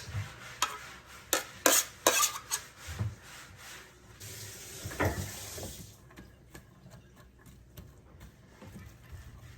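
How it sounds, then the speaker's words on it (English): Onions for Korean chicken and rice being stirred in a pan, with scraping and clattering strokes early on, then a steady broadband sizzle-like hiss that fades into quieter sparse clicks. "So we're going to saute these up"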